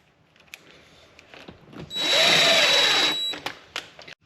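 A power drill drives a screw into a wall stud while a magnetic gun mount is fixed temporarily in place: one loud, steady whirring burst of about a second and a half, with scattered handling clicks and knocks around it.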